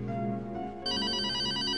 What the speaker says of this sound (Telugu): I think it's your phone.